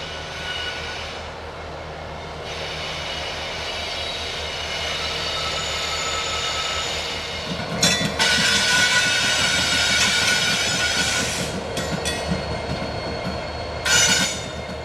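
A Canadian National EMD SD70M-2 locomotive rumbles steadily as it pulls into a steel plant spur, with wheels squealing on the rails and brief louder screeches near the end.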